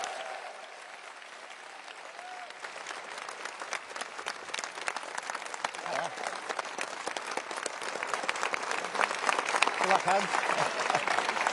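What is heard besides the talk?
applause for Keir Starmer and Angela Rayner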